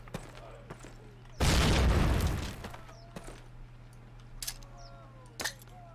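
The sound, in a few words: frag grenade explosion in Call of Duty video game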